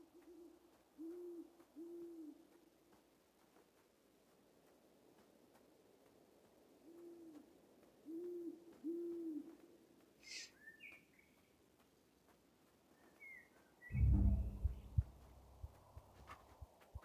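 Owl hooting in the game Shelter 2, soft low hoots in short groups of two or three repeating at a distance, followed by a louder thump and rustle near the end.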